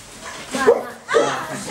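Dog barking, two distinct barks close by, each brief and sharp with a gap between them.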